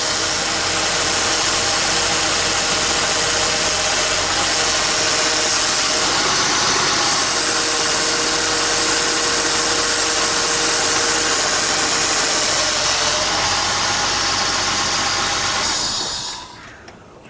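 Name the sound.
noisy power steering pump on running 1999 Acura CL engine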